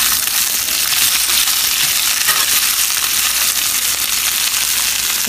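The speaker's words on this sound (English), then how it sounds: "All right, everything is browning nicely, so I'm going to go ahead and I'm going to add my chopped onions." Potatoes and chopped onions fry in a cast iron sauteuse pan, a loud, dense and steady sizzle with faint crackles and stirring scrapes close by, with no talking.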